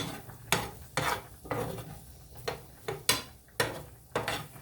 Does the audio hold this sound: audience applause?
no